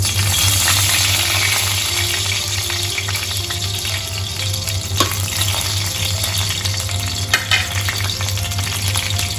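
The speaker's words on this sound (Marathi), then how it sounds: "आता तेल गरम झालं आहे आणि त्याच्यामध्ये आता कढीपत्ता टाकते।" Curry leaves sizzling in hot oil for a crab curry, a loud, dense, continuous frying hiss with scattered sharp pops and crackles, close up and with no speech.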